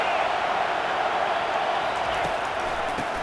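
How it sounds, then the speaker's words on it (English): A football stadium crowd roars steadily on 3rd down, a dense, loud wall of cheering that holds without break from start to finish. "Decibels rising as the crowd gets behind this defense on 3rd down."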